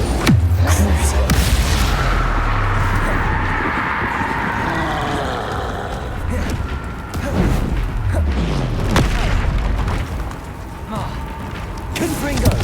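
Confringo and Bombarda explosion spells cast in Hogwarts Legacy, repeated booming blasts and crackling impacts recurring every few seconds amid game ambience and combat effects.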